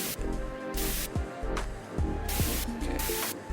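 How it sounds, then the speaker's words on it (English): A spray can applies paint while broken electronics are restored in the repair game Restory, giving several long hissing bursts separated by short pauses, with faint tones and clicks between them. "I do want to just use the spray cans"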